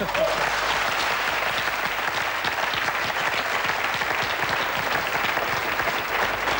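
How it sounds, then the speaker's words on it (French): A studio audience on a 2003 French television talk show applauds loudly and steadily, a dense, unbroken wash of clapping that holds at full strength for the whole stretch. "Jackie, qu'on applaudit très fort."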